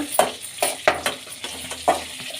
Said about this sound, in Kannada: ಈಗ ಬ್ಯಾಡಿಗೆ ಮೆಣಸಿನ್ಕಾಯಿ ಮತ್ತು ಹಸಿಮೆಣ್ಸಿನ್ಕಾಯಿ ಸೇರಿಸ್ಕೊಳ್ಳೋಣ ಎಣ್ಣೆಲಿ ಫ್ರೈ ಮಾಡೋಣ